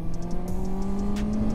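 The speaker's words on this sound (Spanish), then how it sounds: "esta motocicleta, abajo de las 6000 revoluciones, que es a las que vamos ahorita, se comporta bastante dócil" Honda CB 650R motorcycle engine pulling steadily under 6000 rpm, a smooth sustained drone with a gently rising pitch, close and continuous with no talk.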